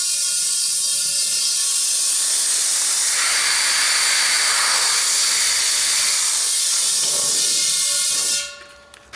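A homemade used oil burner on its test fire gives off a loud, steady broadband hiss with a rising, whistling edge and faint mechanical rattling, holding for about eight seconds before cutting off abruptly.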